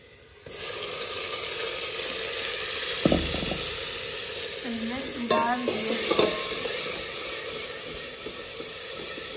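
Onions, ginger and tomatoes fry in a masala while being stirred, a continuous close sizzle broken by several scraping stirs and clinks of the utensil, with no talking.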